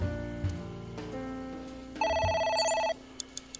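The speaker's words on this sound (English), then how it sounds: "A phone." A telephone rings in the video game AI: The Somnium Files, a bright trilling electronic ring that sounds clearly for about a second over background music, with no talking.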